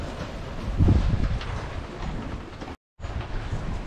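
A 15 to 17 knot wind blows across a sailing boat at sea bound for Panama, a rushing, buffeting roar on the microphone that swells early, then cuts out for a moment before resuming.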